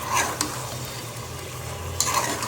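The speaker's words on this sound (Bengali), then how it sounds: "মাংসটা একটু নাড়া দিয়ে দিব" Chicken pieces are stirred in a hot pan, with a scraping, sizzling texture and two sharper utensil knocks against the pan, close and steady with no talk.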